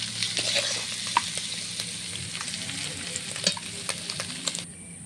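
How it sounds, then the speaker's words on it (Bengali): Shrimp fry in a pan with a loud, steady sizzle that carries through the whole stretch, broken by occasional scraping stirs close by, with no one talking. "মাছগুলো সুন্দরভাবে লাল লাল হয়ে ভাজা হবে।"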